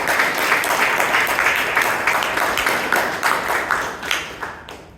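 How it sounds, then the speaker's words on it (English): Sustained applause from an audience at a Toastmasters club meeting in Bangalore, a dense, steady wash of many hands clapping at even loudness for the whole stretch, with a slight fade at the end. "please give the three of them a huge round of applause"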